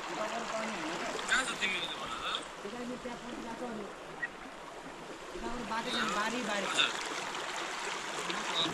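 A river stream flows at night at Godawari Masanghat, a continuous rushing and gurgling of water at moderate level with voices murmuring over it.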